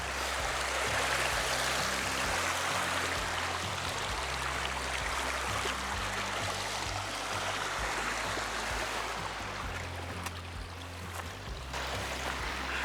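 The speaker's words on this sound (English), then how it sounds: "a successful river crossing across the River Walkham here" The River Walkham on Dartmoor rushes and splashes over rocks at a crossing point, a steady close hiss of flowing water with low gurgling underneath and no talking.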